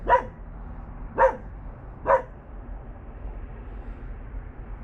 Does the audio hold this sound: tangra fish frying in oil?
no